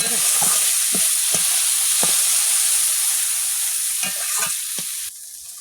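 Potatoes frying in a pan as water is added and stirred, giving a loud, dense sizzling hiss with repeated scraping stirs, dropping abruptly quieter near the end.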